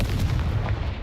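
A Confringo fire spell blasts in Hogwarts Legacy, a loud, dense booming burst with heavy low rumble and crackle, sustained briefly and close.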